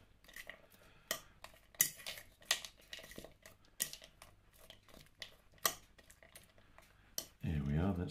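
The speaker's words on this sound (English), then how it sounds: "now we'll give it a bit of a mix together" Beetroot and walnut salad tossed in a bowl, with irregular sharp clinks and taps of utensils against the dish, close and moderately loud, ending in a brief burst of heavier rustling.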